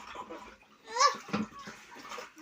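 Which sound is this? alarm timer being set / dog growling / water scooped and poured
water scooped and poured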